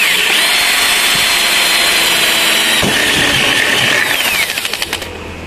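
Drill biting into a Xingfa aluminium window frame to make a lock hole, a continuous loud whining, grinding run that ends with a few rattling bursts as the bit stops, with no talking.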